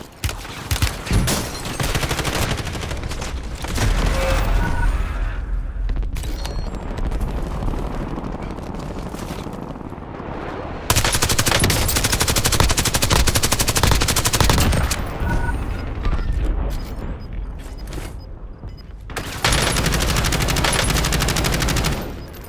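Black Ops 6 Warzone gunfire: dense, loud bursts of automatic fire and explosions in repeated volleys, with short lulls between intense stretches.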